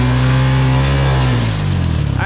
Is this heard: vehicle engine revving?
yes